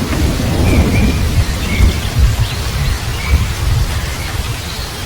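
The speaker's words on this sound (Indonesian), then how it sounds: "Namun rintik hujan semakin deras. Deras dan sangat deras. Air seperti tumpah dari langit." Heavy, steady rain pours down with deep rumbles of thunder rolling underneath, loud and continuous throughout.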